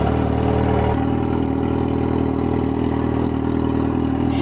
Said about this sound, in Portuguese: Vamos ligar a moto.